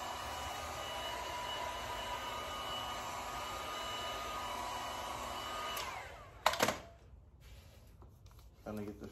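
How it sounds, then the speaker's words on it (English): A heat gun blows steadily and fairly close while softening vinyl wrap film on a door. The continuous airy roar cuts off after about six seconds, followed by a couple of clattering handling knocks and quieter background noise. "getting back into using the heat gun."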